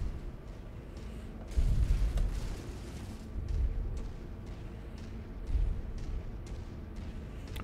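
Enemy fire and explosions in MechWarrior 5 roll under a constant low mechanical rumble, with three heavy booms spaced a few seconds apart and a faint ticking pattern between them.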